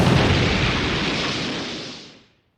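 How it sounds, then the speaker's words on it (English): A car tire blows out as a radio comedy sound effect, a loud, broad burst that hisses and fades away over about two seconds, with no voices over it. "There goes my last tire."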